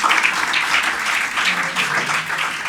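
An audience at a National Handloom Day celebration applauds steadily to welcome a speaker to the stage, a full, continuous round of clapping from a crowd in a hall.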